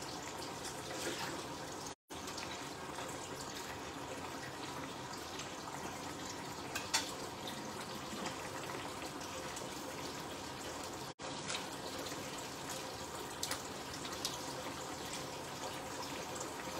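Tap water runs steadily into a kitchen sink while fish are cleaned for a fish soup, a constant close, even splashing stream with occasional faint clinks and no speech.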